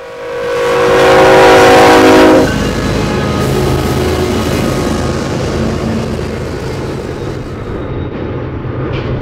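A train on the Cajon Pass in a mountain setting roars by close and loud, a steam-style whistle blaring for the first couple of seconds before the rumble and clatter of the cars continue steadily.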